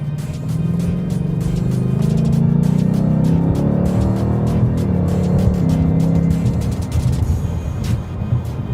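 A supercharged 5-liter engine in a 2018 Ford Mustang revs and downshifts on its own, a loud, steady interior drone with rising and falling engine tones and rapid blips, heard alone without talk.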